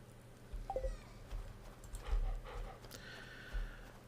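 Dog in the Stardew Valley video game, a few faint short yelps and panting sounds scattered over quiet game ambience.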